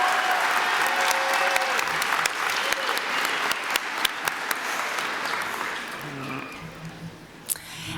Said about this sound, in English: Please join me in a big round of applause for all of them